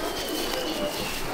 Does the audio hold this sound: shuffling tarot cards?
no